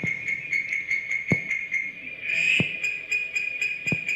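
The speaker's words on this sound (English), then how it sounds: "So Victorian smooth frog" Victorian smooth frog calling as a steady high-pitched trill, with three sharp clicks spaced about 1.3 seconds apart, heard alone and moderately loud.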